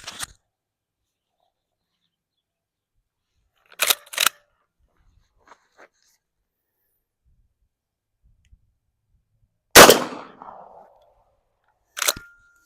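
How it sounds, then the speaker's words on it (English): A lever-action .410 shotgun is fired at a range during a pattern test, with sharp isolated reports spaced seconds apart between long silences, one shot trailing into a brief echo, plus faint action clicks. "So let's get to shooting."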